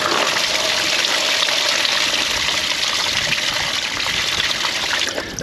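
Liquid gushes from a hose pulled off a Fiat 500 engine, a loud, continuous close splashing pour that eases slightly toward the end, with no talk.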